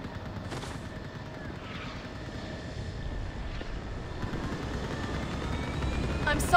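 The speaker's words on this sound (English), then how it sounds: "Get that gunship moving!" Gunship engine in the video game Mass Effect 3, a low steady rumbling drone beneath game ambience, with a brief burst near the start and a sharp sound right at the end.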